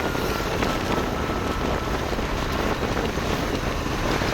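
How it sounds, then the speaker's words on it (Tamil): Strong wind gusts along the coast near a fish market in Jaffna, a constant roaring rush of air buffeting the microphone, with the faint wash of waves beneath. "காற்று வந்து அதிகமாகவே வீசுது."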